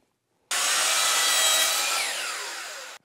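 A single continuous saw cut through a shiplap board, loud and close, rising sharply from silence and holding a steady whine for about two and a half seconds before stopping abruptly.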